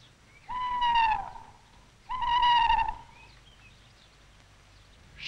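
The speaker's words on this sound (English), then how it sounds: "Bird of night, hoot not. Feathered omen, hoot not." An owl hooting at night, two long wavering hoots about a second apart, each with a falling tone, clear and fairly close against a quiet background.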